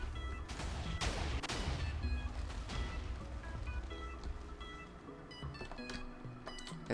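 TNT cannon firing in Minecraft, a 100-stacker leftshooter, sounds as a dense rapid barrage of overlapping explosions that rumbles on and off, then gives way to scattered crackling blasts and debris.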